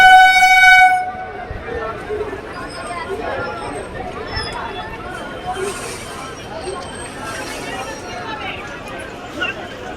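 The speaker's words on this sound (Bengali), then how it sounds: "ট্রেন আসছে সব রাস্তা পেরোচ্ছে" A train horn blasts loudly at the start, then the heavy rolling rumble of a passing train fills the rest, at a crossing where trains cut across roads and people hurry about.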